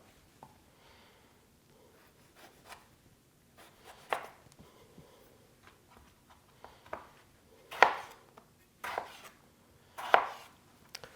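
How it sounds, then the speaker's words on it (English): Tomatoes roughly chopped with a knife on a board, a few sharp cuts standing out near the end after quieter scattered taps and handling. "you can just chop that up, give it a rough chop"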